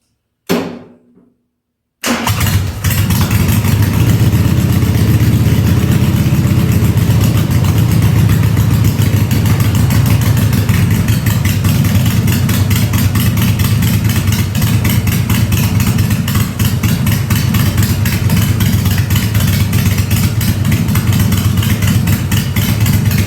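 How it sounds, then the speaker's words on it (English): A cold Harley Ironhead chopper engine, started on a little choke, fires up after a brief crank and a short pause, then settles into a loud, steady, close-up idle that runs on alone for the rest of the time. "All right, folks, let's do a cold start here. Engine's cold, but the temperature's not that cold. A little choke."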